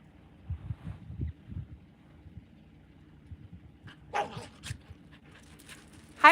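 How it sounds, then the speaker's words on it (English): Two dogs chase each other at high elevation, giving off a few short, fairly faint barks and yips in bursts, mostly midway through, against a quiet background with low rumbling. "Is that my dog? Yeah, they're both my dogs."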